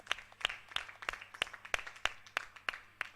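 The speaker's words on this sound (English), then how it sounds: "A clap for them too." Clapping at a school gathering, about ten sharp, evenly spaced claps in a steady rhythm, fairly close and distinct, more like a few hands in unison than a full crowd.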